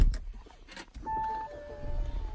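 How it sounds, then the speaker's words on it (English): A 2013 Audi A6 responds to its push-button start with a brief electronic chime and tones, the engine catching with a soft low rumble, heard close and fairly quiet. "Go ahead, press the push start button."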